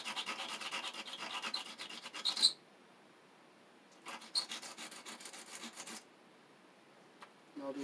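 Sandpaper rubbing a solder terminal on a high-end cassette deck, two bursts of quick, scratchy back-and-forth rasping separated by quiet pauses, close and fairly soft.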